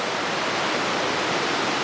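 Ireland Creek on the Pacific Crest Trail, a steady dense rush of flowing water that fills the whole scene at close range, even and unbroken with no voices.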